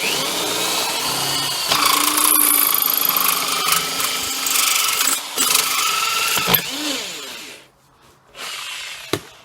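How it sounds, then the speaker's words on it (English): A rusty old hole saw bites into the thin steel of a Sentinel 1330 fire safe with a loud, harsh drilling whine and grinding chatter, broken by brief pauses and clunks before the motor cuts out. "Now let's see if this rusty old hole saw will get us in."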